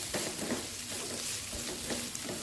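Cooked rice tossed in a hot pan for Indonesian nasi goreng, giving a steady loud sizzle and frying hiss with scraping stir strokes throughout, no talking.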